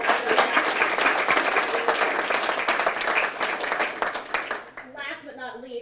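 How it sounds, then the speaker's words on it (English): An audience at a school district board meeting claps for the mock trial coaches in a full, steady round of applause that tapers off near the end as a voice starts to speak. "A big round of applause for them."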